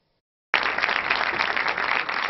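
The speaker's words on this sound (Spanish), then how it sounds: "Una ovación de varios minutos ha despedido al gran maestro del cine español, Luis García Berlanga" Sustained, dense applause from a large crowd at a cemetery farewell for Spanish filmmaker Luis García Berlanga, bursting in suddenly after a brief silence and holding steady and loud throughout.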